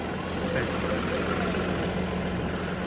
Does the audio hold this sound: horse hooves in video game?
no